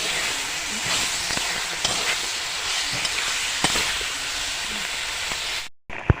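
Chicken fries over a low flame while being stirred in a pan: a constant close sizzle and hiss broken by sharp scraping ticks of the utensil, ending in a short gap and a clack.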